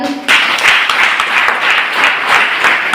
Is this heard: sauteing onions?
no